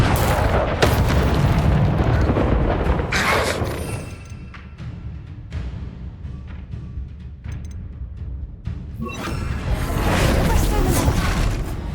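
A Confringo spell blasts in a wizarding video game, heavy booming explosions with rumbling debris at the start and again near the end, loud and close, with a quieter stretch in between.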